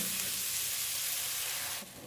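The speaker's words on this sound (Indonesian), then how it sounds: "Ini aku masukin air yang sudah aku didihkan" Carrots sizzle hard in a pan right after boiled water goes in, a loud steady hiss close by that drops off sharply near the end.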